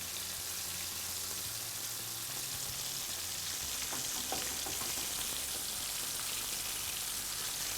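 A tortilla around a hot filling, held shut with toothpicks, fries in a pan with a steady close sizzle and crackle like rain on a surface, lasting throughout with a few louder pops midway.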